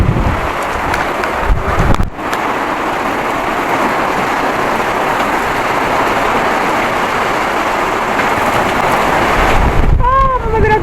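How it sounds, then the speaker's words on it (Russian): Hurricane-force wind storming through a village, a loud continuous roar buffeting the microphone, with gusty surges, a brief dip and rattling noises near the end. "Слушайте, ну это ураган."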